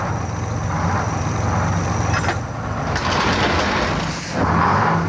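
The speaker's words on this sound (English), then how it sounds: "This is the sound of the most dreaded vehicle on the road today, the tow truck." A tow truck's heavy engine rumbles steadily nearby, with a brief higher whine and hiss as it works, continuous throughout with no talking.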